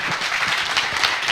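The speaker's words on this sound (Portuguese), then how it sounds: "Você pode dar uma salva de palmas a Jesus?" A church congregation applauds during a Portuguese-language sermon, a steady, dense round of clapping filling the space throughout with no pauses.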